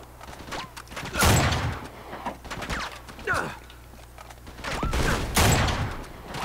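Gunfire in the video game Uncharted 3, played in split-screen co-op on the Syria level: bursts of shots crack out at intervals over background game noise, loud and close.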